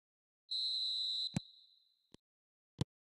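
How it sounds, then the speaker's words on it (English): A referee's whistle shrills once in a football video game, a sustained bright tone under a second long that fades out, followed by a few sharp isolated thumps in near silence. "There's the whistle, and here we go."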